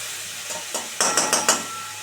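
Half-whole, half-ground tomato sautéing for a rohu fish head curry gives a low sizzle, broken by a quick run of four or five close spatula scrapes against the pan.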